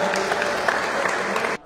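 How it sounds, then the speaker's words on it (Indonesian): Crowd applause for PBSI, the badminton association of Padang Panjang, at a tournament event: dense, steady clapping from many hands that holds for about a second and a half, then cuts off abruptly. "Tepuk tangan untuk PBSI"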